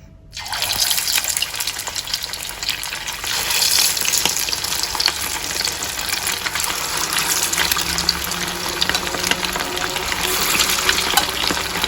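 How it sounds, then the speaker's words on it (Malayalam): Chicken for honey chilli chicken drops into very hot oil over a medium flame, setting off a loud, dense, continuous sizzle that starts abruptly and holds steady, with no talking. "എന്നിട്ട് ചിക്കൻ വറുത്തെടുക്കണം നമുക്ക്."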